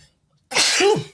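One loud, close sneeze bursts out sharply after a moment of near silence and cuts off quickly, with no talking over it.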